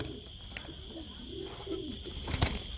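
Pigeons at a bird market where a running pair of calling pigeons is offered for sale give soft low coos in the background, faint against general room noise, with a brief rustle or flutter near the end.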